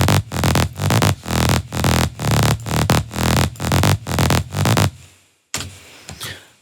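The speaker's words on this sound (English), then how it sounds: "The top bass sounds like this." An aggressive synth top bass from a dark Halloween track pumps in loud, chopped rhythmic bursts for about five seconds, then cuts to near silence with a faint tail.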